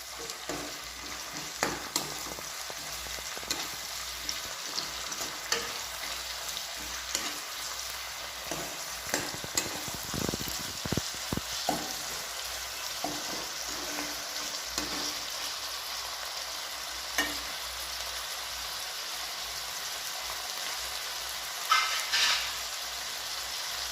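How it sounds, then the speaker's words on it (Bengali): Soya chunks pulao with freshly chopped tomato frying in a pan, a continuous close sizzle broken by repeated scraping and tapping strokes of the spoon as it is stirred, with no talking. "ভালো করে নাড়িয়ে চাড়িয়ে নেব।"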